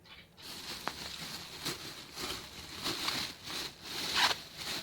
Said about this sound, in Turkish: Şimdi geri kalanını da poşetleyelim.